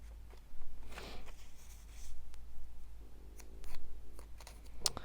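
Scissors snipping through fabric and paper pieces for English paper piecing quilting, a few soft, quiet cuts and rustles spread across a low steady room hum, with no talking.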